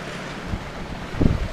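Sailboat cutting quickly across the Arafura Sea at night, with a steady wash of wind and water and two heavier low surges as waves slap against the hull, the second one louder.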